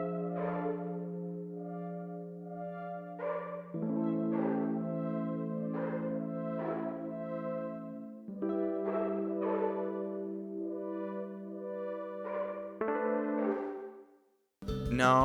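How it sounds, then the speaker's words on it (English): Layered synth pads and keyboard chords in a dreamy song, with a reverb-soaked Repro 5 synth playing sustained chord changes and a soft melodic line over steady low notes, with no voices and a brief break near the end. "Altogether, the synths and keys sound like this."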